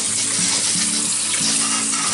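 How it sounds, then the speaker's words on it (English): Live crawfish being rinsed, with a steady rush of running water pouring over them for a couple of seconds. The spray is loud and close, with no talking. "we're going to drain them off and give them a good rinse."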